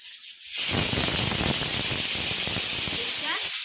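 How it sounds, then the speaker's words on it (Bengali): Dried fish is ground on a shil-nora grinding stone, a steady loud scraping and rubbing that starts abruptly and continues without pause. "এই যে শুটকি মাছ শিলনোড়ায় এখন বাটা চলছে"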